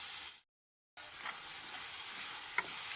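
Chopped green chilli sizzles and fries in hot oil for poha, a close steady crackle that cuts out briefly and returns with soft stirring scrapes.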